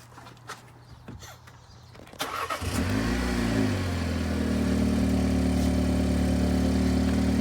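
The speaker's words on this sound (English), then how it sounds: "Open car, start car." A BMW F60 car engine cranks and fires up about two seconds in, then settles into a steady, loud idle that continues to the end, preceded by quiet handling noises.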